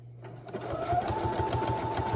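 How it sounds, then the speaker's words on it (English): A domestic sewing machine, not a quilting model, stitches through a quilt up close, its needle running in a fast, steady rhythmic chatter that builds after a brief start. "this is definitely not a quilting sewing machine"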